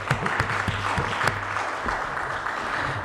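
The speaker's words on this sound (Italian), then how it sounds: "Un applauso a Felice, va." Applause fills the chamber at a metropolitan council meeting, a moderate burst of many hands clapping steadily at mid-distance, with a few sharper claps standing out early before it settles into a thinner patter.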